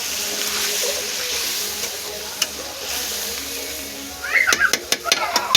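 Water is poured into a pan of frying chicken curry, setting off a burst of loud, crackling sizzles and spatters near the end after a steadier frying hiss.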